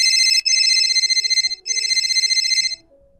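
A phone ringtone trills loudly and close in two long electronic bursts separated by a short gap, then stops, with no voices.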